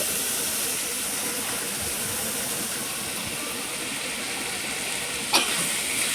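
Meat cooks and is stirred in a kadai, a steady, fairly loud hissing sizzle that runs without a break, with one brief sharp click near the end.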